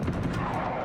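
A grenade going off in Uncharted: Golden Abyss, a single dense, loud boom with a broad rumbling body that fills the brief moment and decays slowly.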